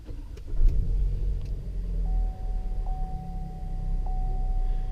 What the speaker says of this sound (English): you can just push down the brake and then hit the start button.